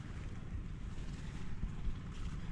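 Steady, rough wind roaring across the microphone, a continuous low rumble with gusty buffeting and no voices.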